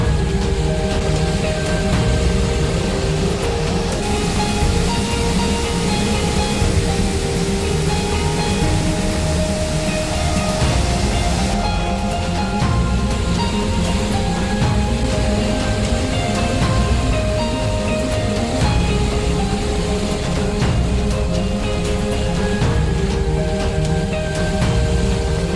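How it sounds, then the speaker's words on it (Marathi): Savatkada waterfall in Bhudargad taluka, Kolhapur, dropping from a height during the monsoon, gives a steady, dense roar of rushing and splashing water that stays loud and unbroken throughout, with no voices. "उंचावरून कोसळणारा सवतकडा धबधबा आणि पाण्याचा खळखळणारा आवाज मन मोहून टाकतो।"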